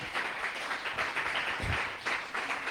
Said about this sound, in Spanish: ¿Cuántos aplauden el nombre de Cristo el Señor?